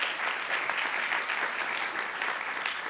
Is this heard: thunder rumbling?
no